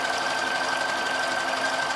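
A sewing machine runs continuously as it stitches fold over elastic onto lingerie, giving a steady fast mechanical whir with no pauses.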